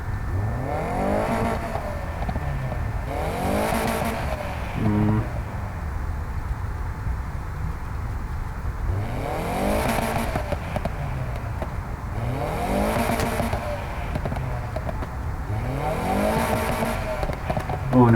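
A car exhaust revs repeatedly in Need for Speed Heat, a series of loud rising engine sweeps spaced a few seconds apart over a steady idle drone, with someone talking at times between the revs.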